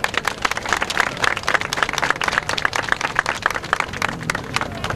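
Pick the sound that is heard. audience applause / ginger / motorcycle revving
audience applause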